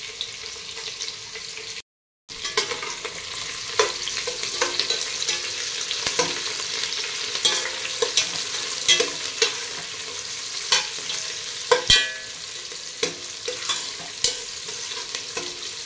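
Two chopped green chillies frying with onions in a pan for coconut rice, giving a steady close sizzle with repeated stirring scrapes and light clinks throughout, with no talk.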